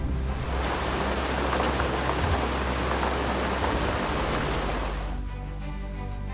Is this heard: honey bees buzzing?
no